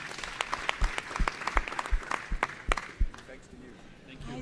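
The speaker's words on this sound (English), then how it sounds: "Can we give them a round of applause" A conference audience applauds a maritime transport panel, with dense, fairly loud clapping running for several seconds and fading toward the end, as a voice speaks over it.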